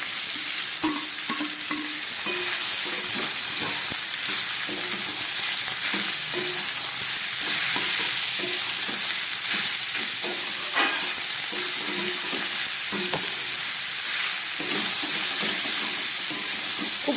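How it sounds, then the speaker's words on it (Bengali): Chopped ash gourd fries in a pan with panch phoron, a steady loud sizzle running throughout, broken by frequent scraping and clinking stirs of a spatula against the pan, with no talking. "চাল কুমড়োটা একটু ভেজে নিলাম"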